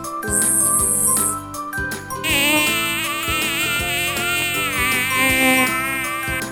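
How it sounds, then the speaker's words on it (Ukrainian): Mosquitoes buzzing in a children's lesson recording, a high thin whine set against bright, tinkling music with chimes and steady harmonic tones throughout, loud and close. "а чи запам'ятали ви, як звенів комарик?"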